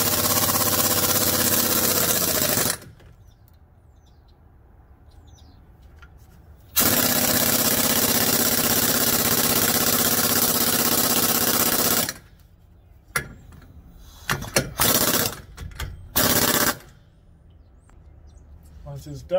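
A pneumatic impact wrench drives an axle nut tight on a 2007 Buick Rendezvous during a front bearing job, loud sustained hammering bursts separated by pauses, with short clatters and shop noise near the end.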